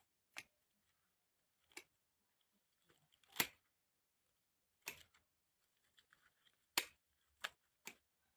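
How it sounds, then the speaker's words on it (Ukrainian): Pruning shears snip through lavender stems outdoors, giving about eight crisp, close cuts at an irregular pace, separated by quiet gaps. "друзі, обрізаю лаванду"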